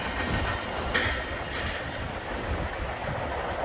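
CN freight train M347, 'The Rattler', led by an AC44C6M rebuild, rumbles past steadily as a southbound, with continuous rail noise and wheel clatter and one brief sharper clank near the start.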